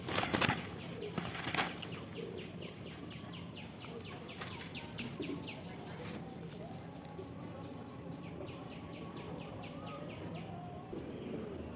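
Giribaz pigeons released into flight, a run of quick soft wing flaps near the start and more fluttering through the middle, faint against background, with someone talking.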